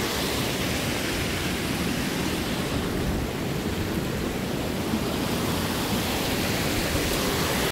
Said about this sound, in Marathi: रांजण हा धबधबा.